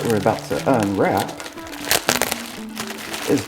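Plastic packaging around hose clamps and exhaust clamps for an AWE exhaust on a Subaru WRX STI crinkles and rustles up close in short bursts, mixed with someone talking throughout.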